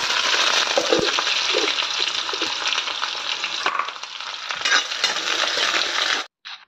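Local meat fries and sizzles in a pan while being stirred, with scraping and clinking of the spoon over a steady loud crackle that cuts off at the end.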